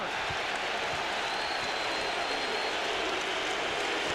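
Basketball arena crowd at a 2001 NBA playoff game between the Orlando Magic and Milwaukee Bucks reacting to a foul, a dense, sustained roar of many voices and noise filling the whole space without pause.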